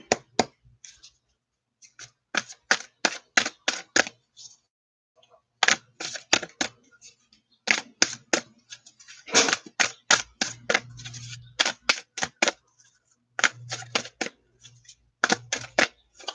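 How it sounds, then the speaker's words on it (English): A deck of tarot cards, slightly sticking, is shuffled in repeated bursts of crisp riffling clicks with short pauses between, close and fairly quiet with no talking. "Let's give them a shuffle or two."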